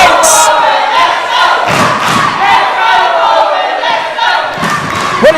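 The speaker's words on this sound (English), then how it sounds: "the crowd is getting more behind Banks every shot he takes" A wrestling crowd roars and cheers steadily behind Warren Banks during a championship match against Roy Johnson, a loud, continuous arena din punctuated by thuds from the ring.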